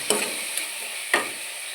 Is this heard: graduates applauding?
no